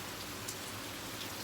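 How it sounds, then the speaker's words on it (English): Rain falls outside as a steady, even hiss of drops, continuous and moderately faint, with no voices. "Do y'all hear this rain?"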